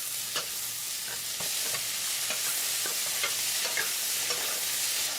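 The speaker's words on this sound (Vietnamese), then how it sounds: "Kế đến là cần tây vào mình xào cho chín tái nha. Rồi đến nấm, xào sơ như vậy giúp rau củ thơm hơn" Celery and mushrooms stir-fry in a hot pan, a steady bright sizzle broken by repeated scraping strokes of a utensil, close and continuous.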